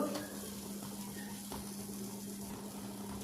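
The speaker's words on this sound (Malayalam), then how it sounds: "നമ്മൾ മുട്ടയ്ക്കകത്ത് മുക്കി വെച്ചിരുന്ന ബ്രെഡ് വെച്ച് കൊടുത്തു." Egg-dipped bread frying in a pan for a cheesy bread omelette gives a steady, soft sizzle, with a constant low hum running underneath.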